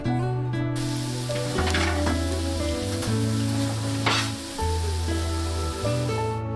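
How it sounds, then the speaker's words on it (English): Onion and garlic fry in oil in a saucepan, giving a steady, close sizzle that runs throughout while a few stirring scrapes break through; no one speaks. "To the pan, we're going to add in our onion and our garlic, and then we're going to season this with a little bit of salt so it helps caramelize the onions"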